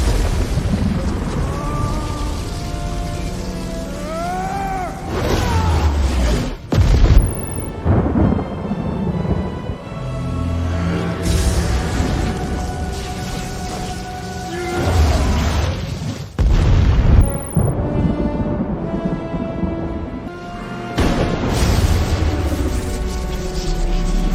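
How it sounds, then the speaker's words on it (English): Deep rolling thunder booms and explosive bursts recur over a dramatic musical backdrop, loud and cinematic throughout. "The lightning animation and explosions happening on each one of them are spot on."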